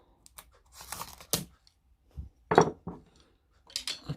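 Packaging of a tarot card deck being opened: short crinkling and tearing bursts with soft plastic rustles and small taps, separated by brief pauses, close and moderately quiet.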